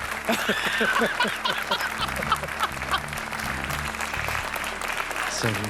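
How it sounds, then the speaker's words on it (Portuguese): Studio audience applause on a TV quiz show, a dense steady patter of clapping mixed with a voice speaking over it and some low musical tones underneath. "Um aplauso, finalmente!"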